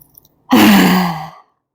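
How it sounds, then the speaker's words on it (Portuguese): A single loud, long breath pushed out through the mouth during a relaxation exercise, a breathy sigh lasting under a second that starts abruptly after near silence and then fades. "Inspira pelo nariz e solta pela boca."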